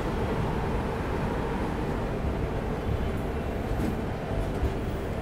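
The Mysore Chennai Shatabdi Express running on its route, heard from inside: a continuous steady rumble of wheels and carriage noise, loud and even throughout, with no talk.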